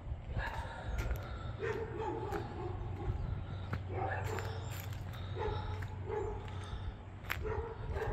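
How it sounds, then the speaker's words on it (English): A pack of dogs barks repeatedly from some distance outdoors, several voices overlapping in bursts across the clip over a steady low rumble. "there goes the pack of dogs over there."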